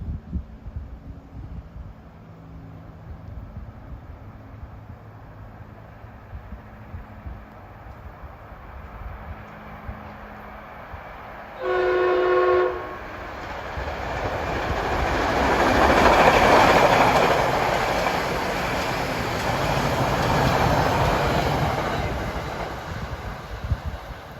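A Metro-North commuter train of M3A cars approaches Riverdale station with a rising rumble and a brief horn-like tone, then rolls in loudly with steady rail noise and squealing brakes.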